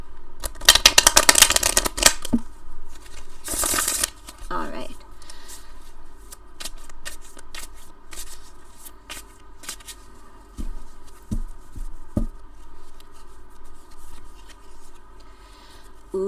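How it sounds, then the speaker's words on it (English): A tarot card deck is riffle shuffled, giving a loud fluttering burst of cards up close, then a second brief riffle a moment later; a voice speaks briefly, and soft handling taps follow. "Let me just give it a little riffle shuffle here."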